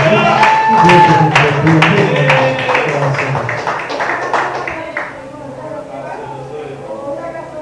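A church congregation clapping in praise to Jesus, scattered hand claps under a loud singing voice and crowd noise, fading toward the end as the room quiets.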